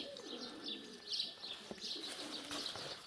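Pigeons coo softly at a dovecote in Potеryaevka, Altai, with scattered chirps and a faint wing flutter over steady outdoor background noise, calls moderately distant.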